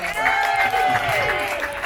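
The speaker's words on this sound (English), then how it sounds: "give that round of applause going for your gator handler, Brian!" A Gatorland audience cheers and claps for the gator handler after an alligator wrestling show, a brief burst of applause and shouts mixed with a carrying voice.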